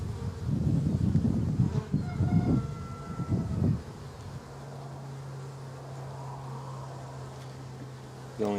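Bees buzz around an open hive during an August colony split, a dense low drone with some passing buzzes near the microphone, later a steadier hum, no talk.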